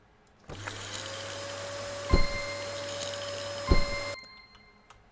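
A steam cleaner in the video game Emergency Cleanup Co hums as one steady tonal drone with a sharp thump midway and another later, then cuts off abruptly.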